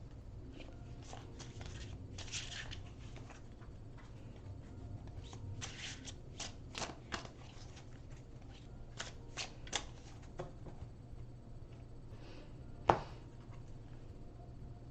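A deck of oracle cards being shuffled by hand: soft, irregular riffling and flicking over about fifteen seconds, fairly quiet and close, with one sharper tap near the end.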